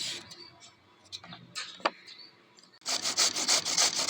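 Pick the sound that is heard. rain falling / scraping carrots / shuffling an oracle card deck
scraping carrots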